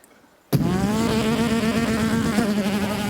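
A voice launches into a sustained buzzing, revving hum imitating a Honda Civic engine, holding a steady pitch for a few seconds after a brief silence.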